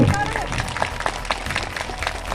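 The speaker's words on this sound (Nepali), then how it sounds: "जोरदार ताली लगाउनुहोस् न" An audience at a 31 December celebration in a Darjeeling tea garden claps in a loose burst of applause, mixed with crowd noise and talk, fairly loud and close.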